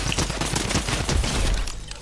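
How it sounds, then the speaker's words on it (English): Rapid drum gun fire in Fortnite, a dense continuous burst of shots that runs steadily for about two seconds without talk. "Take him out with the drum gun."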